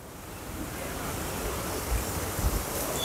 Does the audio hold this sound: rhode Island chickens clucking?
no